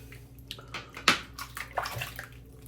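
Water splashing and sloshing in short, uneven bursts as the face is wetted at a sink before a shave, close by and fairly quiet.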